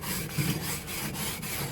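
A wire brush scrubs barbecue grill grates in quick, even back-and-forth strokes, a scratchy rasping rhythm heard up close at moderate volume with no voices.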